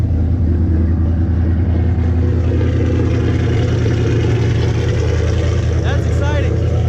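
A Ford Mustang engine idles with a steady, close, low rumble after a fuel pump replacement, running continuously, with a brief faint voice near the end.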